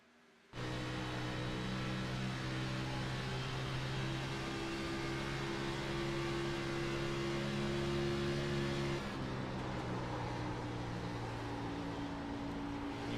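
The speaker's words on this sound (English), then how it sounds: "Really hear the tire squeal there as it's really difficult to get into the corner" Stock car in an Xfinity Series racing video game at Charlotte, engine droning loudly and steadily with a sustained high squeal of tires as it struggles into a corner; the tone shifts partway through as the car eases off.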